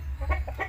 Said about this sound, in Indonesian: Perjuangan ayam bertelur itu seperti ini.